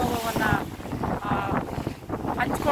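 A large fishing boat heads out to sea from Koderi harbour, its engine and rushing water blending with heavy wind buffeting the microphone in a steady, loud wash.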